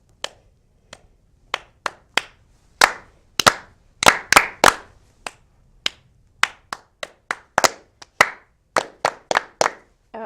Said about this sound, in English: we'll do our little clap to bring them all back together again